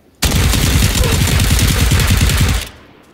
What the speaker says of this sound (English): The guy next to me tried to shoot me.